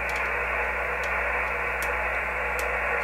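Steady hiss of static from a ham radio receiver hooked to a homemade L network antenna tuner, a constant broadband rush with faint clicks, no voices.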